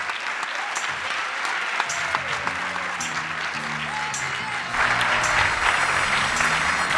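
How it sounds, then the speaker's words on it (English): Audience applause welcoming a keynote speaker, Dr. Bernard Harris, onto the stage, with steady clapping under music that plays throughout and swells louder in the second half. "please give a big round of applause and help me welcome to the stage Dr. Bernard Harris"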